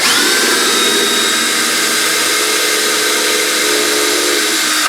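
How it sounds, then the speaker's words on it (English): A loud, steady whine of a power drill running continuously at close range, boring into a wooden guitar neck for several seconds before stopping. "over here I'll usually drill on the treble side"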